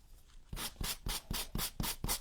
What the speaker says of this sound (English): Hit it with some sandpaper until it is even.